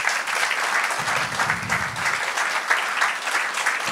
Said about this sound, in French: Je pense qu'on peut applaudir pour ça.